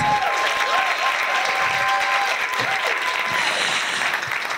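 Dinner guests applauding a woman called up to the front, steady sustained clapping from a crowd with some voices and whoops mixed in.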